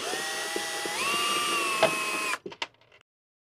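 Ratchet driving a T15 Torx bit on a long extension while working on the instrument cluster of a 2008 Ford F250: a steady, continuous mechanical whir for about two seconds, then stopping with a few short clicks at close range.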